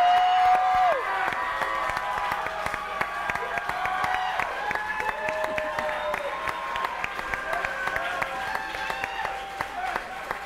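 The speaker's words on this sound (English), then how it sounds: "Everybody's cheering." A crowd at an outdoor charity chef showdown applauds and cheers continuously, with scattered claps and whistles over a steady background roar, and a voice talks over it.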